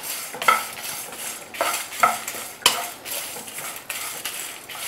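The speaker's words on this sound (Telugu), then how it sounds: "బాగా తిప్పుతూ ఉండాలి, లేకపోతే మాడిపోతుంది." A spoon scrapes and clinks against a pan while stirring homemade chicken fry, with a soft sizzle of frying underneath, irregular strokes close by and no speech.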